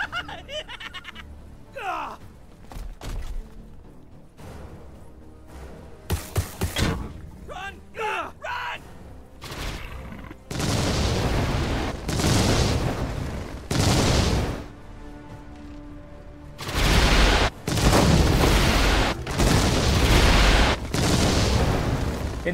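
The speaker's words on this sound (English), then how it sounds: "Shot confirmed! Firing on target!" Bursts of gunfire and heavy booms from the Warhammer 40k: Chaos Gate - Daemonhunters video game, with a long, dense volley of loud shots in the second half and groans and shouted voice lines between them.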